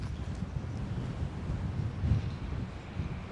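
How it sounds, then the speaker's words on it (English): Strong wind buffets the microphone on an open golf course, a steady low roar with gusts and no talking over it. "as you can tell, into wind like crazy"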